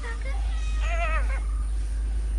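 A cat meows once, a drawn-out nearby cry over a steady low hum, with cats gathering as a fish vendor's van arrives.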